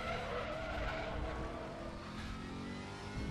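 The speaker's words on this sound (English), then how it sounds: "like I can hear the engine though." A GT3 race car in a sim racing game drones continuously with a steady engine tone and tire noise, even and sustained throughout with no speech.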